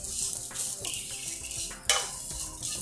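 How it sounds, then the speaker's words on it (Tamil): Ingredients for vegetable Kolhapuri roasting in a pan: a spoon scrapes and stirs repeatedly with light clinks against the metal over a soft dry sizzle, close and fairly quiet. "இது நல்லா கலர் மாறுற அளவுக்கு வறுத்துடணும்."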